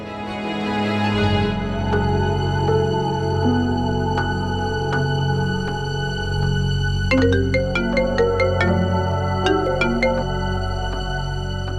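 A mobile phone ringtone plays a melodic electronic tune that repeats continuously for about twelve seconds, clear and fairly loud, with no one talking over it.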